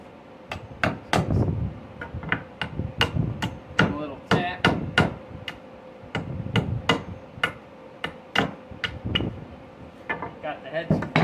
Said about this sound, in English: Now all that's left to do is take out them center nails.